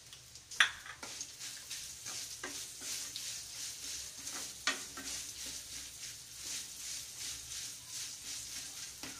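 Peanuts frying in a tempering for lemon rice, with a steady soft sizzle under repeated spoon scrapes and clinks against the pan, close and continuous.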